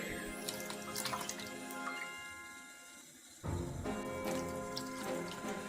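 Water runs into a Halloween balloon holder base in a quiet indoor room, a soft continuous trickle that shifts in tone and grows fuller partway through.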